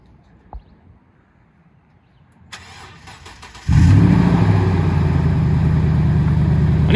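A Toyota Tundra fitted with a remote start kit and open exhaust cutout valves cranks and fires up, settling into a loud, deep, steady idle after a quiet lead-in.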